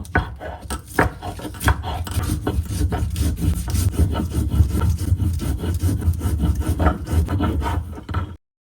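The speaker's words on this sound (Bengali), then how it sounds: "এখন এগুলোকে একসঙ্গে ভালো করে বেটে নিব।" Green chili, cumin, coriander and black cumin are ground together into a paste on a stone, producing close, loud rhythmic rubbing and scraping strokes that repeat steadily, then stop abruptly at the end, with no talk.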